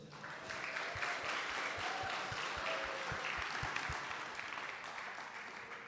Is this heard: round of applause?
yes